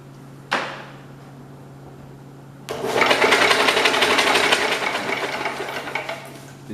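A Kohler K181 single-cylinder engine is cranked over for a spark test: a sharp snap, a pause over a steady hum, then several seconds of close, noisy mechanical whirring that tapers off.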